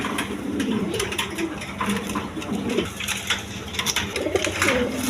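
Domestic pigeons, including red khaki pairs, cooing repeatedly in soft low rolling calls close by, with faint background clatter and no talk.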